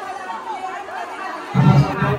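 A crowd of women chattering as they gather to sign after a village meeting of fishing families affected by a bridge project, many overlapping voices in a busy babble that grows louder and closer partway through.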